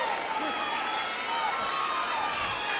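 Steady wall of crowd noise at a 1985 Mid-Atlantic professional wrestling show, a broad continuous roar that stays level throughout, with faint voices mixed in.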